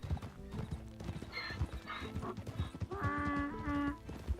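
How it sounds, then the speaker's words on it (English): A mule in the video game Red Dead Redemption 2 gives a donkey-like bray, a harsh, wavering call, over steady clip-clopping hooves close by. "This is making donkey sounds."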